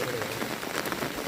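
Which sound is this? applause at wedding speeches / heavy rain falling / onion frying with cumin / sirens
heavy rain falling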